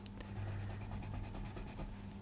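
A Tombow Irojiten colored pencil swatched on paper gives a steady, close, quiet scratchy scribble with fast rhythmic back-and-forth strokes and no talking.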